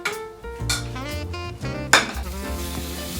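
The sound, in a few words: garlic stir-frying in a wok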